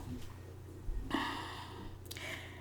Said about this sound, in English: If you're wondering why I'm sniffling so much, my allergies are kicking my ass